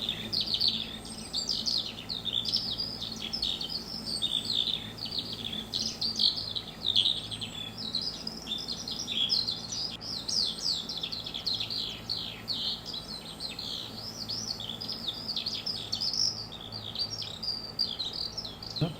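Birds in the video game Farming Simulator 22 chirp and tweet nonstop, a busy, fairly loud chorus of overlapping calls over a faint low background drone.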